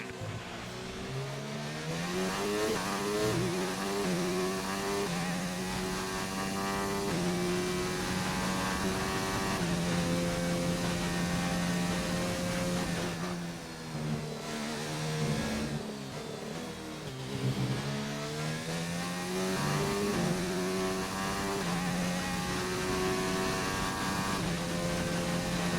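A Formula 1 car engine in the F1 2019 racing game drones loud and steady, its pitch rising and falling through gear changes without any talking.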